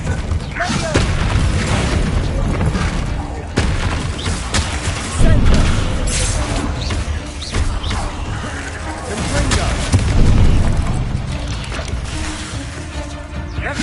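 Spell blasts from Hogwarts Legacy, including Confringo and Bombarda, boom and crash in dense rapid succession with rumbling impacts and clattering effects, loud and continuous amid voices.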